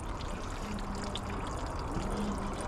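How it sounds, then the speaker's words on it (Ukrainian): Coolant pours steadily out of the radiator of a GNS 300 enduro motorcycle, a close, continuous liquid splashing and trickling with no speech over it. "Тим часом Кирюха зливає з свого радіатора тосольчик."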